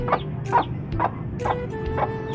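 Young gamefowl stags, about four months old and hatch claret cross, cluck nearby. Short clucks come roughly every half second over a low farmyard background, with no voices.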